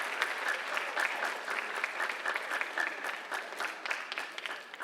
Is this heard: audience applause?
yes